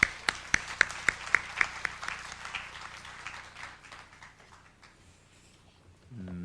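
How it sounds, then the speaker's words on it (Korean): An audience claps to welcome a professor to a lecture, opening with several loud, evenly spaced claps in unison before loosening into scattered applause that fades away. "우리 교수님 나올 때 박수로 환영하겠습니다."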